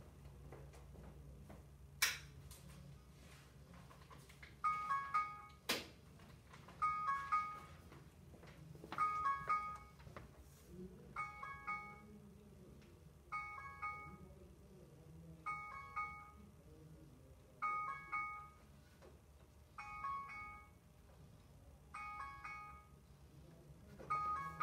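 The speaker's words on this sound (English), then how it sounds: "my phone went off too, so it'll stop in just a second" Mobile phone ringing during a math class, a faint repeating chiming ringtone pattern that recurs about every two seconds for most of the stretch, with occasional clicks and room noise.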